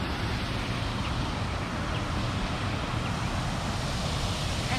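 A waterfall in a Japanese garden in Phoenix gives off a steady broadband rush of falling water, constant and fairly close, with no voices over it.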